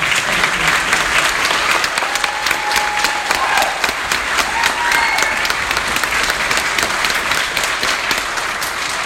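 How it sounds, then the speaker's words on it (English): Parents in an audience give a round of applause for junior band camp students, a loud, continuous sustained clapping that holds steady throughout, with faint scattered voices and a brief whistle-like tone mixed in. "Parents, would you please give them a round of applause?"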